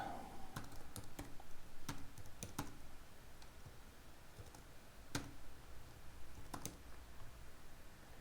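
Someone types on a computer keyboard in quick, irregular key clicks with short pauses, close but quiet over a steady background hiss.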